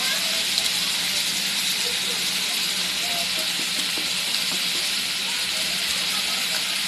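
Chopped onions softening with a pinch of salt in a pan for Sunday anda masala give off a steady, even sizzle throughout, with faint scattered ticks and pops rising above the broad hiss.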